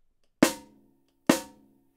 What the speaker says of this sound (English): that sounds more like a marching snare